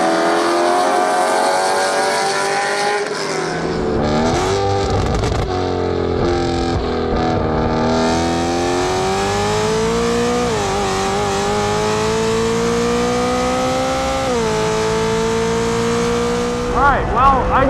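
A BMW M car accelerates hard on a race track, its engine loud and close as it climbs through the revs, dipping briefly at each gear change, with a person talking over the noise from inside the cabin.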